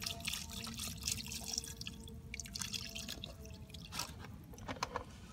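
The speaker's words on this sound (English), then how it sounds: "I'd put a little bit more water because there's a line right here to where you fill it" Water is added to an Instant Pot for solar cooking while boondocking, heard as a steady, close dripping and trickling that runs throughout with soft splashes.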